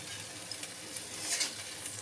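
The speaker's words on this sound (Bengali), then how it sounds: "আর আজকে আমার ছেলে রান্না করছে" Food sizzles steadily in a pan as a boy fries a chili potato-style dish at home, a quiet, continuous crackle with a slightly stronger burst of spitting near the middle.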